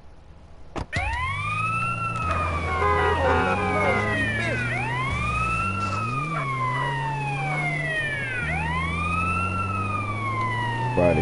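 Ambulance siren in GTA San Andreas, a loud wailing tone sweeping up and down in repeated long cycles over a low engine drone, continuous and close for the whole stretch.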